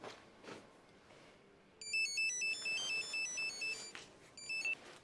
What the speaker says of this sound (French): il existe des sonneries de portable qui ressemblent à celles de Max